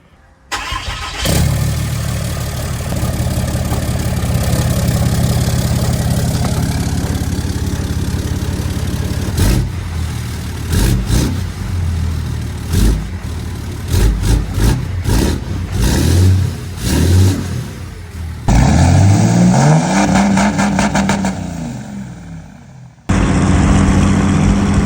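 Deleted Cummins diesel truck engine cranks and fires up, then idles with a steady low rumble before several sharp, loud revs rise and fall, ending in a brief cutoff and restart.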